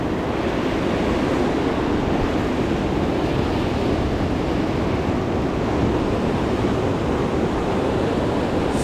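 Ocean surf breaks and washes continuously along a beach, a dense steady roar with some wind buffeting the microphone, loud and unbroken throughout.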